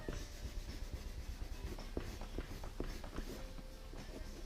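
Pencil shading hair strands on paper gives soft, close scratchy strokes in quick irregular bursts, faint and without any voice.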